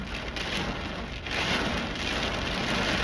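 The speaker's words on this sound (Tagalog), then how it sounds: "Sobrang lakas ng ulan." Heavy rain during flash floods in Dubai pours steadily and loudly, a dense continuous roar of drops drumming on surfaces with no voices.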